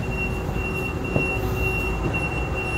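Inside a moving light-rail commuter train in Canada, a steady low rumble of wheels on track with a constant faint whine and a brief clunk, no talking.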